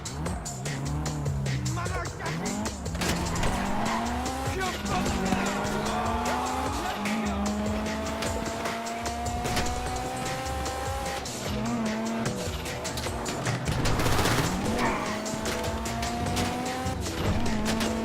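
Car driven hard in GTA Online during a Fleeca Job heist setup, engine revving and changing pitch continuously as the tires squeal through turns, loud and close throughout with no pause.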